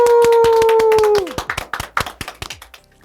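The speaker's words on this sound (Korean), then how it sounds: "박수!" A round of applause plays under a sustained electronic tone; once the tone drops away, the quick, close clapping continues alone and thins out toward the end.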